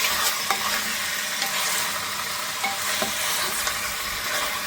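Soup ingredients browning in a clay pot for a Filipino soup, a steady close sizzle with a few brief scraping stirs cutting through, no voices.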